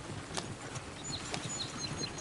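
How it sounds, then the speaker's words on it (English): Horse hooves clip-clopping in the video game Red Dead Redemption 2, a faint, uneven run of soft thuds under a steady hiss of outdoor ambience with no talking. "Oh, shit, the horses! Damn horses!"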